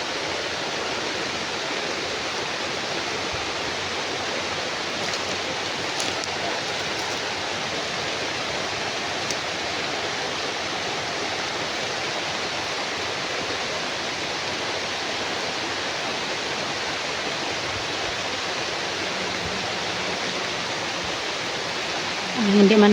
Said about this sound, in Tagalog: Malakas ulan dito ngayon tol.